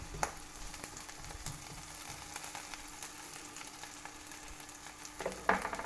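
A loose-meat cheeseburger fries in a pan with a steady, close crackling sizzle throughout, and a brief louder burst of spitting near the end.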